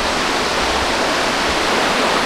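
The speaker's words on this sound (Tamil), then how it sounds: "தண்ணி ஃப்ளோ இருக்குது பயங்கரமாக" A strong, steady roar of heavy water pouring down at Tada falls during the monsoon, a dense continuous rush with no voices over it.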